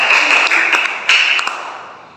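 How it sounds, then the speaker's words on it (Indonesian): Pupils in a fourth-grade classroom at a Christian elementary school in Makassar clap for a student group, a short burst of dense, bright applause with a few sharper claps that fades away over about two seconds. "Kita beri aplaus ya untuk kelompok"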